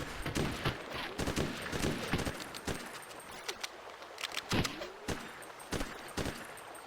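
Gunfire in Ghost Recon 2 on GameCube: scattered sharp shots and short bursts, some close and loud, others more distant, irregular throughout with no speech.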